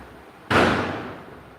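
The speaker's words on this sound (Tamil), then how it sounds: "நல்ல வெடி சத்தம் கேட்டுட்டு இருக்கு." A single sharp firecracker bang rings out in the distance, followed by a rolling echo that slowly fades away.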